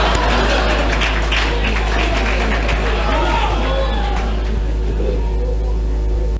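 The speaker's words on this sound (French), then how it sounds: "Voyez comment est-ce que le chef est applaudi." A crowd applauds a chief at an outdoor political gathering. Dense, continuous clapping and cheering merge with crowd babble and a low rumble, and the sound fades slightly toward the end.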